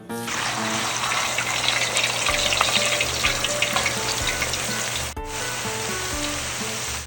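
Sliced potatoes for homemade potato chips fry vigorously in hot oil, a loud, dense, continuous sizzle and crackle with a brief stir or interruption near the end.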